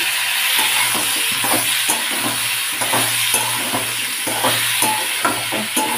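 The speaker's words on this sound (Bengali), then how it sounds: "নাড়তে নাড়তে বাকি ভেজে রাখা সবজিগুলো দিতে থাকবো।" Vegetables cook in a pan with salt, turmeric and ginger paste and a little water for shukto, giving a loud, steady close-up sizzle under repeated rhythmic stirring scrapes, with no talking.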